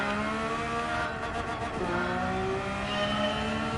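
A Porsche GT3 race car engine in Gran Turismo 7 drones loud and steady at high revs, dipping briefly with a gear change partway through, with no talking.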